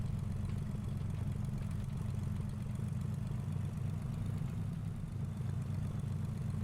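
A Carenado Commander 114 single-engine piston aircraft in the Prepar3D flight simulator taxis at low power, its steady, droning engine hum running continuously and evenly throughout with no talk.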